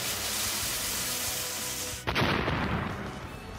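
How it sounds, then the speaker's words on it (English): Thunder Punch attack in Pokémon Let's Go Pikachu: after a steady low game-music bed, a single sharp electric crack bursts out and is followed by a crackling, sizzling tail. "I'm gonna Thunder Punch."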